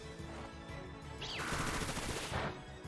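A Bullet Seed attack in the video game Pokemon Scarlet and Violet: a rising whoosh, then a loud, dense volley of rapid popping shots that lasts over a second, over the steady in-game music.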